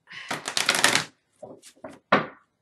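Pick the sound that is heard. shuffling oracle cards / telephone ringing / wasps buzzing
shuffling oracle cards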